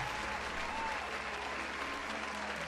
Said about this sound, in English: let's give I'm a Moron a round of applause